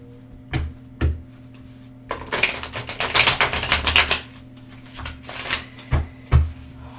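Tarot clarifier cards are shuffled and drawn nearby: a few crisp taps, then a dense two-second riffling burst, followed by scattered light card clicks, with no talking.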